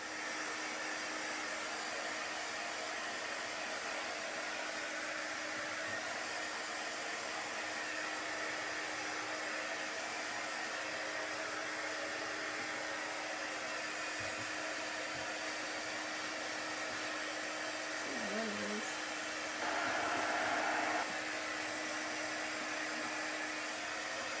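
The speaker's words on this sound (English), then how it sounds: "So now we need to dry it really well." A hand-held dryer blows steadily to dry wet painted burlap during a Chalk Couture craft project, a constant close whirring hum that holds unbroken, with a brief shift in pitch near the end.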